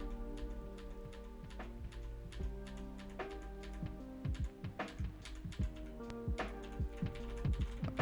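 Keys clatter on a computer keyboard set directly behind a Fifine AM8 microphone, a quiet, irregular run of crisp taps and clicks picked up faintly from the mic's rear.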